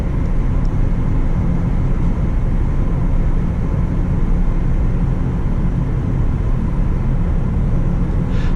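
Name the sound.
Tesla Model S P90D driving at about 68 mph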